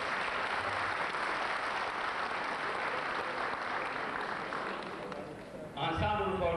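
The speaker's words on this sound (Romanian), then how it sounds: "Îl aplaudăm!" Festival crowd at a folklore event applauding steadily, a dense wash of clapping that fades slightly before a voice speaks over it near the end.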